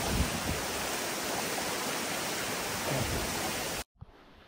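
A steady, loud, broadband rush of Blemantung waterfall, which drops behind a cliff in a coffee plantation in Ujungan village, Pupuan, heard up close without a break until a sudden cut near the end.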